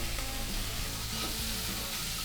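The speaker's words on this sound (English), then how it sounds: "So I'm going to add this into the pan now with the lamb." Lamb and onion sizzle steadily in a frying pan while cooking a green bean and lamb curry, a continuous close hiss of frying with no voices.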